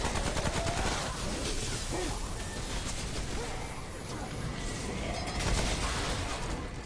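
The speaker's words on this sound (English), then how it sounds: "I don't know who the hell's shooting at me" Dense, rapid gunfire rattles in the video game Subject 2923, sustained bursts layered thickly, with faint voices underneath.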